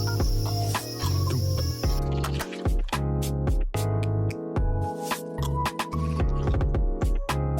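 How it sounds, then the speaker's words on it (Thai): Golden and copper crickets chirp loudly and continuously in a dense, steady trill, heard close up with no talking. "จิ้งหรีดทองคำและจิ้งหรีดทองแดงครับ"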